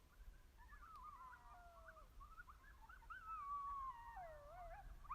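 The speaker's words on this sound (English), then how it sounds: "You hear coyotes?" Coyotes howling at night on a hilltop in Heath, Massachusetts: a chorus of wavering, rising and falling yips and howls, several animals overlapping at moderate distance, with no talking.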